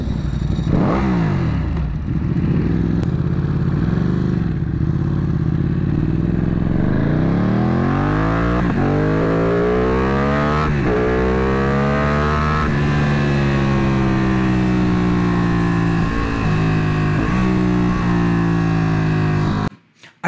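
A car engine revs repeatedly at a street bike night, loud and close, with the pitch rising and falling through long pulls and a rough crackling exhaust texture under the drone.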